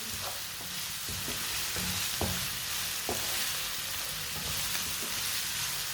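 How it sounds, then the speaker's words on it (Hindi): Vegetables for noodles sizzle in a frying pan while being stirred, with a steady frying hiss broken by several scraping clacks of the spoon against the pan. "सब्जियों को मैंने अच्छी तरह मिक्स कर लिया।"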